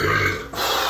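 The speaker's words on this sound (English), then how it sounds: "one more thing to cut out, that burp right there" A person lets out a low, rough burp lasting about a second, with a brief dip in the middle, close and alone with no talking.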